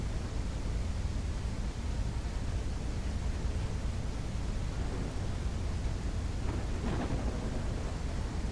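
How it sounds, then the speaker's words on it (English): Steady broadband rain hiss with a low rumbling undertone fills a thunderstorm in the video game Everwind, holding at an even level throughout with a brief brighter swell near the end and no talking. "Might have to wait out the storm."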